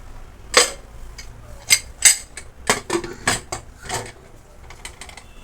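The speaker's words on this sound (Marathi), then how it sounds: "मी आता कुकरला झाकण लावणार आहे" A pressure cooker lid is fitted and closed, a close series of sharp metallic clanks and clicks spaced irregularly, with quiet stretches between them.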